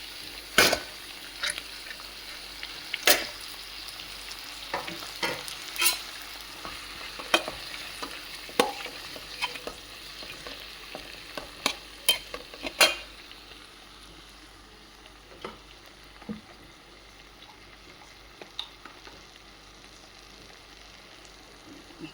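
Washed moong dal frying in a pan, stirred with sharp spoon scrapes and clicks against the metal over a steady sizzle; the scraping is busy at first and then thins out to occasional taps.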